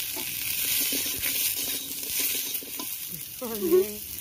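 Singi fish frying in a pan for a thin fish curry, a steady soft sizzle and hiss that runs throughout at moderate loudness, with a brief voice near the end.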